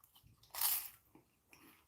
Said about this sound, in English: Let's hear that crunch one more time.